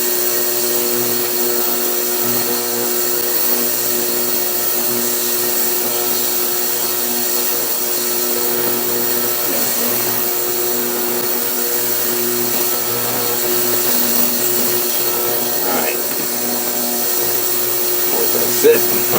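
A heat gun blows steadily on an old GE electric motor during a repair, making a constant whirring hiss with a faint tonal whine that holds evenly from start to finish.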